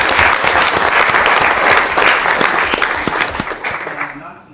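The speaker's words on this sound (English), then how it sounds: "So if we can give him a round of applause for that." An audience at a city council meeting gives a loud round of applause for a youth wrestling champion, dense clapping that holds steady, then thins and fades out after about four seconds.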